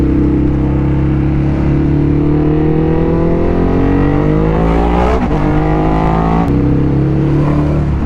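A Suzuki Hayabusa hyperbole motorcycle engine drones loud and steady while riding, its pitch climbing smoothly through a long rev with a brief shift-like break near the end, close and continuous with no talking.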